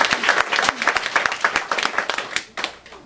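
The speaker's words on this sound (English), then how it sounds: "Give George a round of applause." Audience gives a round of applause at a mind-reading stage show, a loud, close burst of many hands clapping steadily for about three seconds before tapering off slightly.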